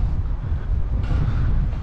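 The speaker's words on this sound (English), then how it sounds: "Might hear a bit of wind, it's a bit breezy." Wind buffeting the microphone at an outdoor fairground during pull down, a loud steady low rumble with gusty fluctuations and no talking.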